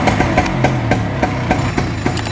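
An old 1964 Vespa GS scooter's small engine runs close by with a rapid, even putter and regular pulses while the grip-shift gears are worked, loud and steady throughout.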